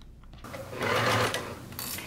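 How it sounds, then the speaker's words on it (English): A sewing machine runs a long basting stitch through vinyl about an eighth of an inch from the edge, a close steady mechanical whir that starts abruptly and hums on, dropping slightly near the end. "We're going to go to our sewing machine and we are going to baste this down about an eighth of an inch away"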